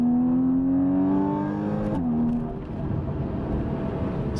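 A Porsche Boxster GTS with a PDK gearbox, in Sport Plus mode, accelerates hard. The engine note climbs steadily, drops with a quick upshift partway through, then pulls on strongly and close by.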